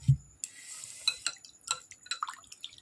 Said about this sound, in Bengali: এবার ফিল্টার জল দিয়ে চিকেনটাকে একটু ভালোভাবে ধুয়ে নেবো আরেকবার